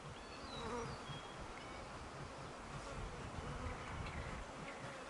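Honey bees from a hive with a laying worker swarm right around the microphone, a dense, close buzzing drone with individual bees zipping past, steady and unbroken with no voices.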